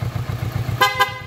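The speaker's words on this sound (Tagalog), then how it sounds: "Busina sir. Busina po." Two short, loud vehicle horn blasts sound close up, following a rhythmic low engine or motor pulsing.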